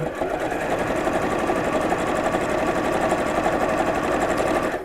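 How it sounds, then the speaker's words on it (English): A sewing machine stitches a fabric drawstring bag slipped over the machine bed, running steadily, its rapid mechanical stitching rhythm continuous and close, with no voices. "you can slip the bag over the sewing machine bed and sew"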